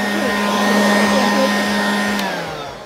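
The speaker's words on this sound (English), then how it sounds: "It's time to use our blower, clean it all up" Leaf blower running in a backyard, a loud steady motor whine with a constant tone, close up and alone, easing slightly toward the end.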